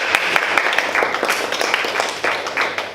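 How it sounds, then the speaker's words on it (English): A room of attendees at a Toastmasters speech evaluation session claps steadily for about three seconds, a dense even patter of hands with a faint low hum underneath and no voices. "round of applause"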